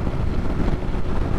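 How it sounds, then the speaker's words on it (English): Continuous, heavy wind roar and buffeting hit the microphone while a rider cruises at highway speed on a motorcycle without a windshield at night. The low-pitched rush stays loud and unbroken throughout. "The highway without a windshield is windy."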